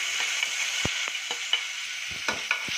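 Onion, tomato, ginger, garlic, curry leaves and turmeric fry in a pan with a continuous close sizzle. Irregular scraping taps from stirring break through the sizzle.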